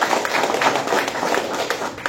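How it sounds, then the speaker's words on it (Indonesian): A room full of people clapping together, a dense, brisk patter of hands that holds steady and then tapers slightly. "tepuk tangan dulu untuk kita semua"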